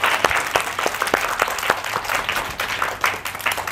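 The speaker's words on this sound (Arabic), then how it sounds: "تصفيقة تصفيقة على إكرام." Audience applause fills a children's television show, a dense, steady burst of many hands clapping for a girl invited on stage, with scattered sharper claps standing out throughout.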